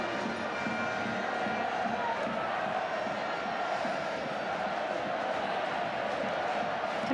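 A sold-out stadium crowd at a France v Ireland women's Six Nations rugby match, a steady distant roar of many voices with no sharp peaks throughout.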